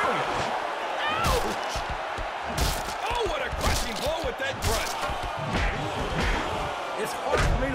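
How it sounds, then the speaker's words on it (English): Repeated body slams and impacts from a WWE All Stars tag-team wrestling match on PS3, thudding crashes over game crowd noise and music, with someone talking over the action. "Slams him down."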